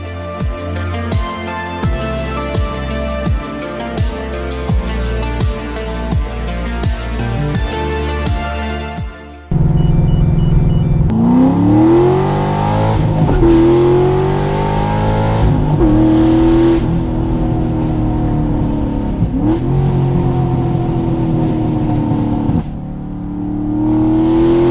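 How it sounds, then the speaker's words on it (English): A white Corvette engine revs hard and accelerates through gears, loud and close, with repeated rising pitch sweeps after an earlier droning, rhythmic idle. "Nice white Corvette, Drew."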